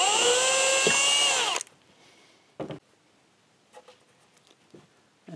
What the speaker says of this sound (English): You have to drill a hole in the sheetrock here,